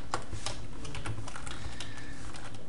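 Keys on a computer keyboard are pressed in a quick run of sharp, close clicks and taps while shortcut combinations are entered to comment out code.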